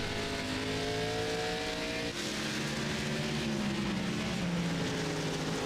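A race car engine drones steadily at Lime Rock Park in iRacing, a loud continuous whine that holds pitch, dips briefly with a gear change, then climbs again, with other cars faintly around.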